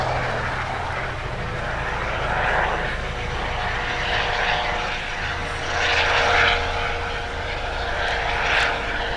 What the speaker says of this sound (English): we almost timed it perfectly to finish before the helicopter took off